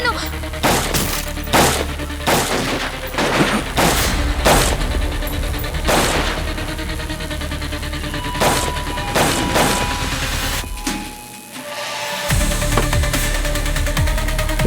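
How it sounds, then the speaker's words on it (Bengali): Gunfire in a crime drama, a rapid run of sharp, loud shots and impacts in irregular bursts, broken by a short quiet gap before the noise resumes, with voices briefly heard among them. "আরে গুলি চলছে"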